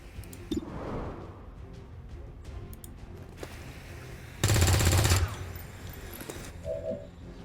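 Soldiers fire on an alien in the XCOM game: a loud sustained burst of automatic gunfire lasting under a second, preceded by a sharp single shot and some quieter game effects.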